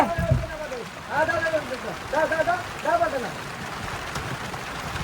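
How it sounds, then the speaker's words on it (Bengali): Steady rain hiss runs through the clip in the Sundarbans during net fishing, while people talk nearby, their voices rising and falling over the patter. "বৃষ্টি চলে আসলো"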